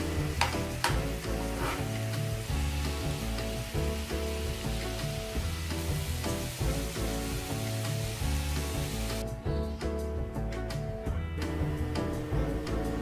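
Spicy Korean-style tofu (dubu jorim) cooks in a pan with a steady sizzle and occasional stirring, alongside a continuous tonal background that carries on unbroken for the whole stretch.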